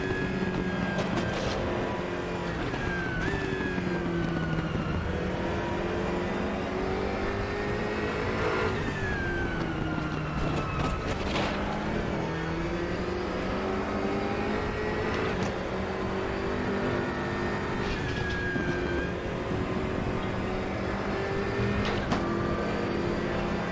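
A race car engine laps the Nordschleife in a racing video game, revving up and down continuously as it shifts through gears, steady and close, with no talking.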